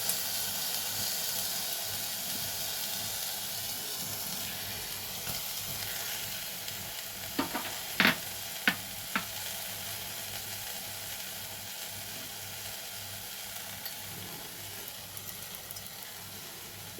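Dalia and masoor dal sizzle in a pan, a steady close frying hiss with a cluster of sharp spoon scrapes and clacks midway as the mixture is stirred, then the sizzle settles back.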